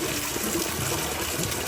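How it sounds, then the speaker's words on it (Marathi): Year-round freshwater stream at a temple (Keshavraj temple, Dapoli) trickling steadily, a continuous close wash of flowing water with no talking. "12 महिने ही स्ट्रीम चालूच असते. गोड पाणी, पिण्यालायक पाणी."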